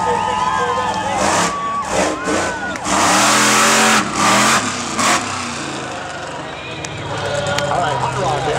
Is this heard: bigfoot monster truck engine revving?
yes